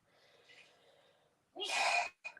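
A single close, sharp sneeze bursts out after a soft intake of breath in a quiet room, followed by a brief, quieter trailing snort.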